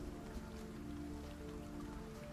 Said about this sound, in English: Okay, that's just rain.